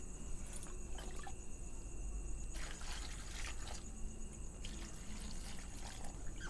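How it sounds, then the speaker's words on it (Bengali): Water poured and splashed while washing chopped vegetables for momos, heard as quiet, intermittent trickling bursts over a steady background hiss with faint insect-like chirping. "এবার সব সবজিগুলো ভালো করে ধুয়ে নেব"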